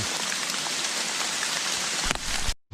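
Steady, dense rain patters on a surface, close and loud, with a brief dropout at the very end, while out gathering mushrooms.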